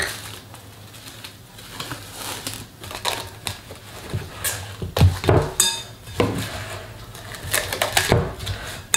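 A spatula scrapes around the rim of a mixing bowl holding no-knead pizza dough, followed by the bowl being covered; light scraping, crinkling and clattering sounds come in irregular bursts, fairly close and soft.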